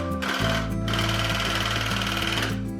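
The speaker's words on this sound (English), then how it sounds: "I found a section where I wanted to see the full potential of this tufting gun" A rug tufting gun running at maximum speed hammers away in a fast, steady mechanical buzz, loud and close, with no talk over it.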